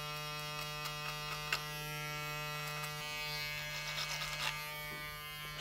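Electric hair clippers fitted with a size 5 comb drone with a constant close buzz while trimming a taper haircut, and soft brushing cuts flicker over the hum.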